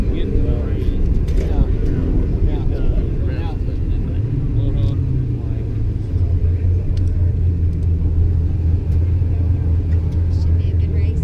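Ford and Shelby drag racing cars at the Mid America Ford and Shelby Nationals elimination event produce a heavy engine rumble that settles into a deep, steady drone, with people talking over it.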